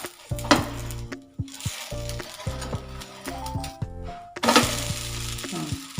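An onion dosa is flipped on a hot pan and sizzles steadily, with two louder bursts as it is turned, while a melodic tune plays alongside.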